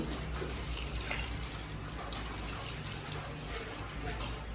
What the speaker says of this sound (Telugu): కొంచెం వాటర్ అయితే వేస్తున్నాను